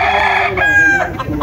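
A young bullstag rooster crows loudly and close by, one strained cock-a-doodle-doo with clucking around it in a farmyard setting, with no voices over it.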